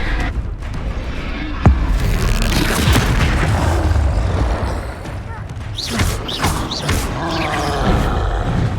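Confringo fire spell explosions in Hogwarts Legacy, a series of sharp booming blasts and crackling bursts amid roaring game effects, with a voice calling out spell names over the action.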